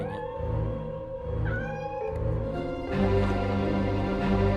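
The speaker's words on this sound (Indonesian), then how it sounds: "seekor kucing yang datang tiba-tiba. Meow." A cat meows several times, drawn-out tonal cries rising and falling over a musical background, close and clear.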